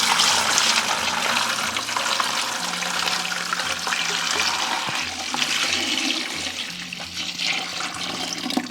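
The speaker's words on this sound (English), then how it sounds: "And then you just pour it on the block," Warm water pours steadily from a container onto a compressed soil block for tomato seed planting, a loud, continuous splashing gush that runs the whole time with no talk.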